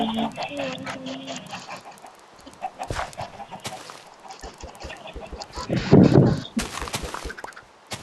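Minecraft chickens cluck in short bursts, with a louder flurry of clucking near the end, mixed with clicks and other game sounds.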